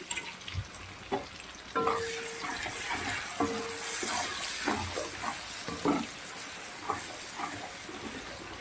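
Chopped onions hit hot oil in a pan for mutton curry, crackling and sizzling loudly while a spoon stirs with intermittent scrapes and knocks, close and without speech.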